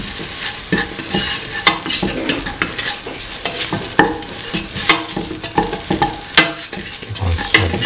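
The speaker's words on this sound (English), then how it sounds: "Keep on stirring." Kidney bean and potato stew is stirred in a sizzling pan, with a spoon scraping and clacking in an irregular rhythm over steady frying, close and fairly loud.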